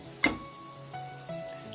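Kanda bhaji, onion fritters, fry quietly in oil with a soft low sizzle, opened by a sharp metallic clink of a utensil and followed by a few faint taps.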